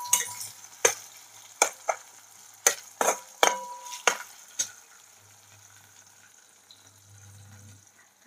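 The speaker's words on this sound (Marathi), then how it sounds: "तर आता मी याच्यामध्ये टमाटर टाकून देते" Tomatoes tossed into frying onions in a pan: a quick series of sharp clinks and scrapes from a spoon against the pan over soft sizzling, then the knocks stop and only faint frying remains.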